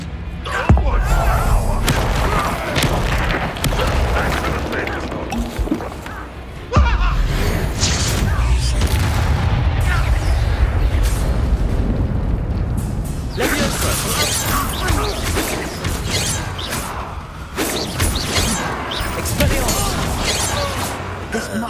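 Confringo fire spell and other combat magic blasting in Hogwarts Legacy, with repeated booms, crashes and whooshes layered over game music, loud and continuous, with a sharp burst partway through and voices calling out spell names.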